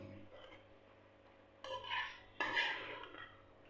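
Boiled macaroni with soy sauce is stirred in a pan, giving two short bursts of spoon scraping and clinking against the metal over a quiet background.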